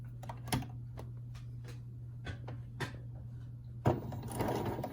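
A sewing machine stitches fabric for a reversible tote bag in short bursts, with quick tapping needle clatter over a constant low motor hum and a louder whirring run near the end, close up with no talking.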